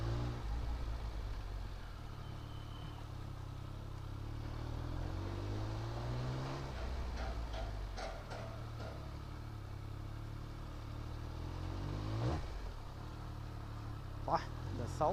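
A Speed Triple 1200cc motorcycle idles and rumbles in Chennai city traffic, a steady low engine drone with surrounding vehicle noise and a voice talking over it.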